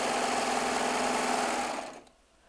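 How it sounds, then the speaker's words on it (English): A Baby Lock Triumph serger stitching a 4-thread overlock with its built-in knife trimming the edge, giving a steady, fast, close mechanical whir that runs evenly and then winds down to quiet near the end. "while I'm doing a 4-thread overlock"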